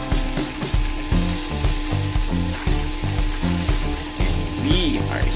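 Mantis shrimp (alupihang dagat) frying in garlic butter until golden brown, a loud continuous sizzle with a rhythmic mechanical rattle pulsing underneath, no talking.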